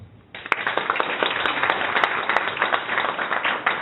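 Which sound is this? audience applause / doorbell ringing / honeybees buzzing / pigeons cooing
audience applause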